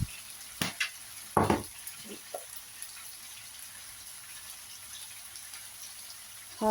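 Spices such as red chilies, turmeric and crushed chilies are stirred into chicken karahi in a pan, giving a few short scraping stirs and soft sizzling bursts with quiet gaps between them.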